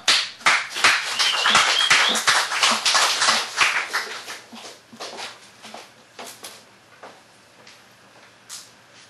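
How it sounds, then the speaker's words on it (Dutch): A small audience claps for a guitarist at a poetry-and-music Sunday event. The clapping is fairly loud at first, then thins out into scattered, separate claps that fade toward the end. "Oké, mensen, mag ik jullie aandacht en applaus voor Annika!"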